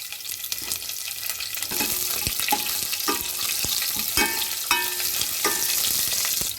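Curry leaves, dried red chillies, mustard seeds and crushed onion frying in hot oil for sambar, a dense continuous sizzle with crackling pops and spatula scrapes scattered throughout; no talking.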